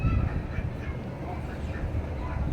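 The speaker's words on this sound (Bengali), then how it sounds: "এটা হলো আমার হাঁসের প্রজেক্ট" Laying ducks on a small duck farm quack in a steady low chorus, a dense murmur of birds close by with no talk over it.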